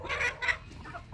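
Chickens cluck nearby in a couple of short, throaty bursts, moderately loud with no talking.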